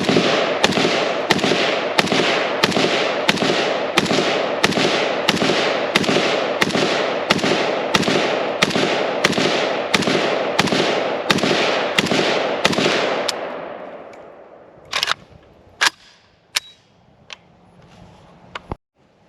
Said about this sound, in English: we tested out the mag in the Legion, so very first shots, KP-104, now is a carbine